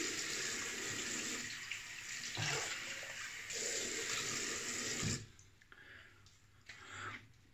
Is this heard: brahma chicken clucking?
no